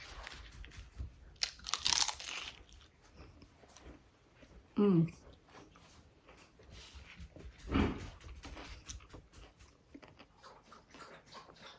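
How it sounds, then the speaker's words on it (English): Crunchy bites into a puffy fried chicken taco with guacamole, a few loud crisp crunches and chewing spaced across the stretch, with quieter talk and kitchen noise between them. "It's crunchy."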